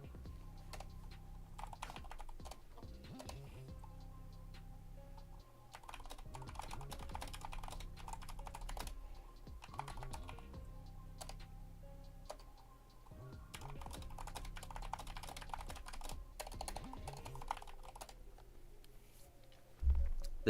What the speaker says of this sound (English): It's one loud keyboard.